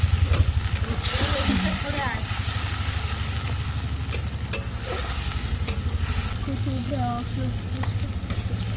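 Spice paste for a fish head curry sizzles and sputters loudly in a pan while a spoon scrapes and stirs it in a quick, steady rhythm, with voices talking faintly underneath.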